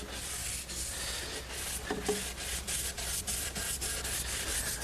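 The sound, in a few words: clean rag rubbing stain into pine stool with the grain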